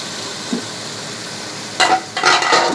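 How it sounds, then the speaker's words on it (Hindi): Fried okra is tipped into a sizzling chicken bhindi masala, cooked until the ghee separates, and stirred. A quiet pan hiss gives way to sudden loud clattering, scraping and sizzling bursts near the end. "अब इसमें मैं ये फ्राई की हुई भिंडी डाल दूंगी"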